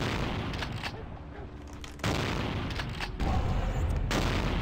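Gunfire in the video game Vampire: The Masquerade – Bloodlines comes as dense, loud bursts of booming shots and rumbling impacts, with several sharp onsets and short lulls between volleys.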